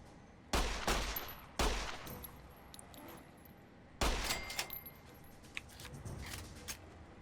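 Gunfire from the video game Fallout: A Tale of Two Wastelands: three loud, sharp shots spaced a second or more apart, followed by quieter scattered clicks and clatter against a steady background hum.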